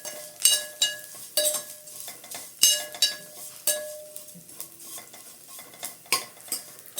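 Vermicelli (semiya) being roasted in ghee in a pan for milk payasam, stirred with a metal spoon: repeated scraping clinks against the pan over a soft steady sizzle, close and without talk.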